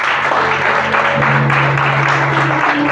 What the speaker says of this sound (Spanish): Denle un fuerte aplauso a Dios por eso.